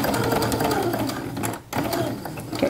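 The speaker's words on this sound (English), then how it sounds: "We're going to want to top stitch over our top stitch." A sewing machine top stitching fabric while assembling a bag, running in a fast, continuous mechanical rattle up close with a brief pause partway through before resuming.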